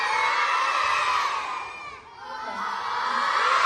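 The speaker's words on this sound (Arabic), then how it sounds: "يلا صفقوا لها تصفيقة حارة" Theatre audience at a live stage show in Algeria's national theatre cheers, shouts and applauds, with children's voices among a loud, continuous crowd roar that dips briefly midway before swelling again.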